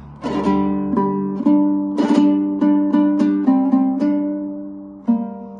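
A plucked stringed instrument plays the slow introduction of the Kazakh kui "Koroglu" solo, notes ringing out one after another with clear decays and gentle pauses.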